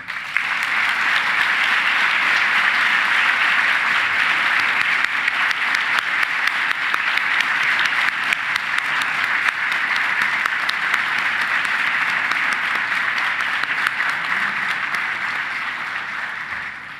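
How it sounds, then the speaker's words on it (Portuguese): Long, loud, even applause fills the hall at an opening ceremony, a dense wash of many hands clapping for well over fifteen seconds before tapering off. "pido a ele um forte aplauso"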